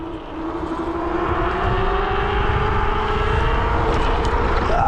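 An Angwatt X1 2.0 electric scooter accelerates hard. Its loud, close motor whine climbs steadily in pitch over a constant road and wind rumble, with no speech.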